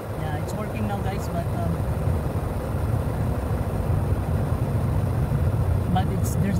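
Air-conditioning blower motor in a Nissan Tiida running with a steady, continuous low hum and whir, fairly close and constant throughout, with no speech over it.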